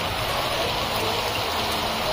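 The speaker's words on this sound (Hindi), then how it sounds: "बहुत तेज बारिश हो रही है यार" Heavy rain pours steadily outside a shop in Kerala, a dense continuous hiss of water filling the whole clip with no speech.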